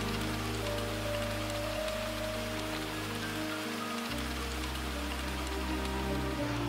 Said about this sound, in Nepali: हाम्रो यात्रालाई वर्षाले स्वागत गर्यो अनि हामी अगाडि बढ्यौं।